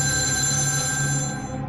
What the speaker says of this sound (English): Serbia police station received a phone call.